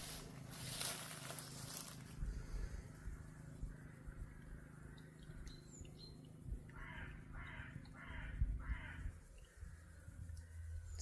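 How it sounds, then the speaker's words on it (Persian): Crows cawing outdoors while a rescued injured falcon is handled: about four harsh caws in a quick run partway through, at moderate distance over a steady low rumble and faint background birdsong. "صدای کلاغا که میاد"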